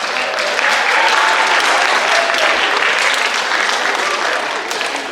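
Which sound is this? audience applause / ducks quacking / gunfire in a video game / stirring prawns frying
audience applause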